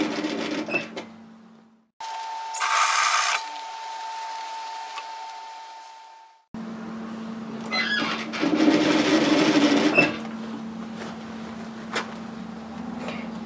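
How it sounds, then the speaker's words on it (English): A sewing machine stitches a strap onto a reusable four-cup takeaway coffee holder bag in two separate runs of steady mechanical whirring, the second longer, close and moderately loud. "stitch across"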